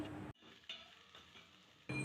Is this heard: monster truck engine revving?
no